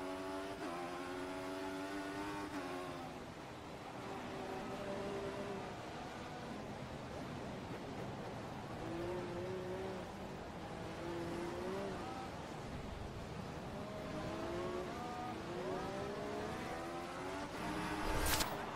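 Race cars at a racing league race start in a replay, with many engines revving and whining together and shifting pitch as they accelerate, steady and dense, no talking.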